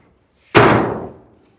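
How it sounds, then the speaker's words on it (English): Door of a 1938 custom Cadillac being shut, a single loud, close metallic slam with a short ringing decay, after near silence. "door shuts, just like that"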